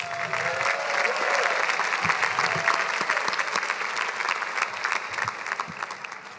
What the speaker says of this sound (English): Why don't you give your dean a big round of applause?